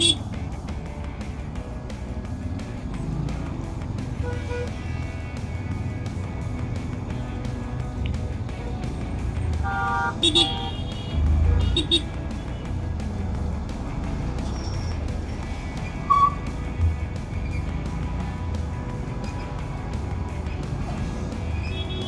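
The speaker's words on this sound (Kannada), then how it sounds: "ಟ್ರಾಫಿಕ್ ಸಖತ್ತಾಗಿದೆ, ಕೇಳೋ ಮಾತೇ ಇಲ್ಲ." Busy road traffic rumbles continuously on a monsoon motorcycle ride, with a low engine and wind drone throughout and a few brief horn-like tones cutting in; a rider speaks over it.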